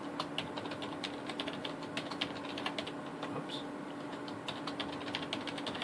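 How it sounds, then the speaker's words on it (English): Fingers tap out a password on a computer keyboard for a Western Digital DX4000 NAS, giving a steady run of quick clicky keystrokes with small bursts and pauses, close and fairly clear over low room hum. "I'm one of those people that erases the entire password to retype it"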